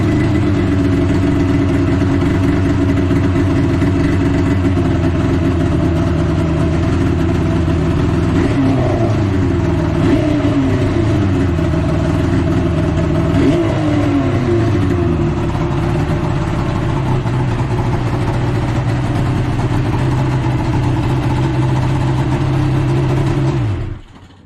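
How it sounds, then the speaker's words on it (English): A loud snowmobile with 8,774 miles on it runs steadily after a pull start, its exhaust droning with a couple of brief revs in the middle before cutting off at the end. "give it a little pull start so you can hear the beautiful sound of its exhaust"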